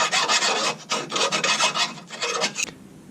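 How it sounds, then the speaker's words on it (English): File sandpaper rasping on a BMW E46 M3 differential part, a series of close, loud back-and-forth scraping strokes in quick rhythm, ending abruptly. "Now I'm gonna grab my file sandpaper. I'm gonna clean that up a little bit"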